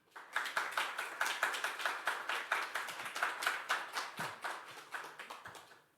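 An audience claps to welcome a distinguished guest to the stage at a startup conference event, steady moderate applause of many hands that fades out at the end.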